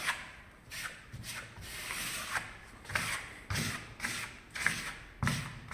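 A plastic spatula spreads decorative wall paint over a wall in layers, making repeated soft scraping and rubbing strokes at close range, each sweep rising and fading in an uneven rhythm with no talking.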